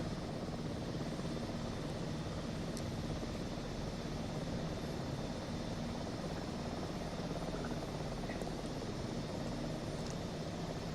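A helicopter in Microsoft Flight Simulator 2024 flies over the Olympic lakes and valleys, its rotor and engine making a steady, even drone that fills the whole stretch at a constant level.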